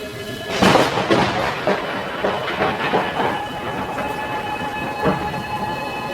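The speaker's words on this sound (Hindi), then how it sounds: "बाहर मूसलाधार बारिश हो रही थी।" Heavy torrential rain pours outside in a continuous dense roar, with a few deeper rumbling swells in the first seconds, steady and fairly loud throughout.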